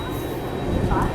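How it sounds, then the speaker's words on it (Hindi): A train passes on the adjacent track, heard from inside a moving long-distance express as a close, heavy rumble with a brief rise in rattle, and faint voices in the background. "देखो बगल से भी अभी कोई ट्रेन क्रॉस हो रही है"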